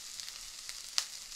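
Chilli hits hot oil already crisping garlic and ginger, giving a soft, steady sizzle with a few small crackles and one sharper pop.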